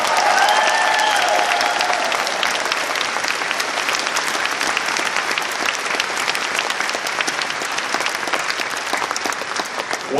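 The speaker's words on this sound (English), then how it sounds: "Give yourselves one of the biggest round of applause because you deserve it." A large audience at the Anthrocon 2024 furry convention ceremony bursts into loud, sustained applause, dense clapping with a few cheers filling the hall steadily for about ten seconds.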